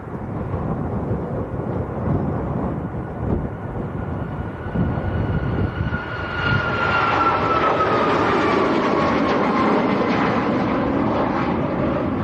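Ryanair jet departing Leeds Bradford Airport on a windy day, a loud, building engine roar with a rising whine as it powers up and rolls, filling the whole clip without talk.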